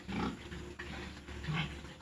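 Pig grunting in a backyard pen, two or three short rough grunts close by at moderate loudness, with no talk.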